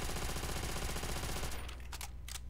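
Rapid automatic gunfire from a weapon in Call of Duty custom zombies, a dense stream of loud, close shots for about a second and a half before trailing off into a few scattered pops.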